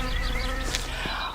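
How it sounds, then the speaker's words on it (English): Bees buzz around a flowering English country garden, a dense, continuous hum of insect wings close by, with a few louder passes drifting past and no talk over it. "Steve, can you hear the bees? Oh, they sound absolutely stunning."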